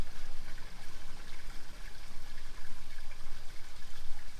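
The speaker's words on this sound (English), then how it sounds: "As you can tell, the water that's coming out right now is not dirty." Clean soapy water flows steadily out of an RV gray tank drain hose at a dump station, a continuous broadband rushing trickle heard close and fairly loud, with no talking.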